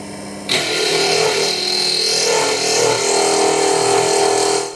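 A drill bores into a solid granite base kept wet with squirted water, giving a steady, loud, continuous grinding whine that starts abruptly and holds without pause.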